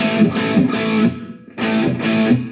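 An electric guitar plays sustained, pulsing chords through a Valeton GP-100 vibrato effect, wavering, two strummed phrases separated by a brief pause, loud and close.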